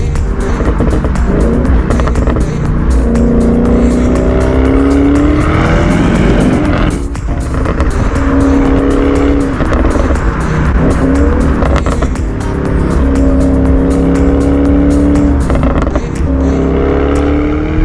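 An Audi RS6 Performance engine heard from outside roars loudly nearby, revving up and down repeatedly with a deep, rumbling growl and occasional crackles.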